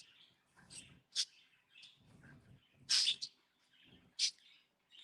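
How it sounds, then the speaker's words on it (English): Pet birds chirp loudly indoors in sharp repeated bursts, with softer twittering between the louder calls and no talk over them. "my birds are going insane"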